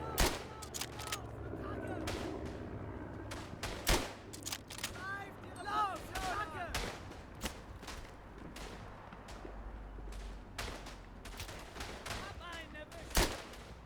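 Rifle and carbine shots in the First World War shooter Verdun ring out one after another, sharp close cracks over a constant rumble of distant battle fire, while someone talks in between.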